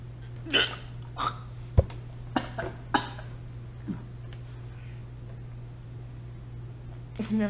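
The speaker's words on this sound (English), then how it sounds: "So you're gonna hear me hiccup now." Sharp, isolated hiccups from a person on a podcast, several short bursts spaced irregularly over a few seconds, fairly close and otherwise quiet apart from a steady low hum.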